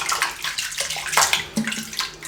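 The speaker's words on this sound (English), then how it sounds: "Actually, let me just rinse the soap now." Running water rinses soap off an aluminium razor, a close, steady splashing stream with small fluctuations as the razor moves through it.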